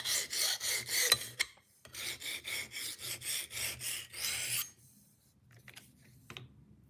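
Knife blade sharpened on a diamond stone, a series of about a dozen evenly spaced, crisp scraping strokes close up, followed by quieter handling noises.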